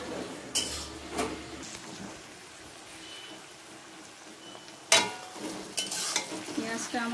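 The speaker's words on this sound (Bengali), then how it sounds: "পেঁয়াজটা একটু লাল লাল করেই ভাজবো।" Onions fry in a pan in a Bengali village kitchen, a faint sizzle punctuated by a few sharp scrapes and clanks of a spatula on the metal, the loudest coming near the end.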